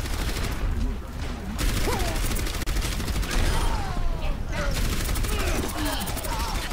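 Rapid gunfire from the Overwatch video game crackles in dense bursts almost throughout, mixed with game effects and a voice speaking over the shooting.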